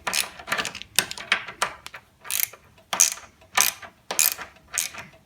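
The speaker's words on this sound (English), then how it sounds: "And then I use a box wrench and a ratchet" A ratchet and box wrench tighten a bolt on a pallet dining table, with repeated sharp clicking ratchet strokes in a steady rhythm, loud and close, with no talking.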